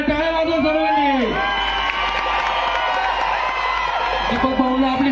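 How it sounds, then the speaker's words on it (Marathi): Crowd at a band performance cheering and whooping as Deepak Bhau arrives on stage, loud festive shouts mixed with clapping, with an announcer's voice carried over a public address system. "दीपक भाऊचं आगमन झालं आहे. टाळ्या वाजवा सर्वांनी."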